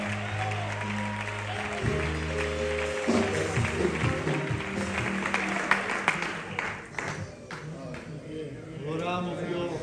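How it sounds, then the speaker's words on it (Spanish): Church congregation applauds at a pastoral farewell service, a broad wash of clapping that swells and runs on under music and a voice speaking over it, with the crowd noise fading toward the end. "Fuerte el aplauso"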